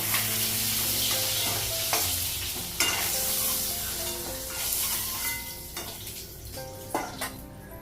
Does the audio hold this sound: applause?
no